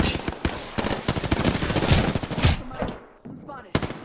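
Rapid automatic gunfire bursts in a video game shooter, loud and close, crackling in dense volleys for most of the stretch before a short lull and a final burst; faint voices sit underneath.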